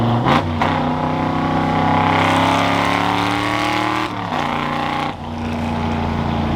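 A car engine held at three-quarter throttle around five thousand rpm, a loud, steady harmonic drone that swells slightly in pitch, dips briefly twice, then resumes, with no talking over it.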